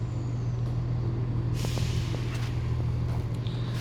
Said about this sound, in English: if you can hear this noise outside, that's a train stopping outside my station